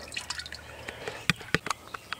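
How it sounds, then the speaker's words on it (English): Waste oil trickles and drips with sharp, irregular splashes, close up, as it is poured into a tank made from a propane tank; no talking. "Okay, now I'm going to pour on in."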